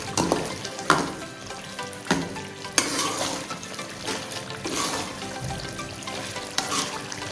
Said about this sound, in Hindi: भून लेते हैं।